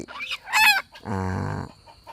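A hybrid jungle fowl hen, a laying hen, gives a sharp squawk followed by a longer drawn-out clucking call, loud and close, with a few softer sounds after and no talk.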